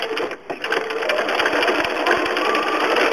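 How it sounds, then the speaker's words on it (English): Sewing machine running steadily while zigzag satin stitching appliqué with an open-toed foot, a loud continuous mechanical whir with fast rhythmic needle clatter and a brief pause near the start. "This is an open-toed foot again, and zigzag stitching"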